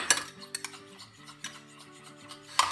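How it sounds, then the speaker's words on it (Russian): Spoon stirring flour into water in a pan or bowl, light scraping and clinking strokes at an irregular pace, up close and moderately quiet, with a steady low hum underneath. "Разведу здесь немножко муки."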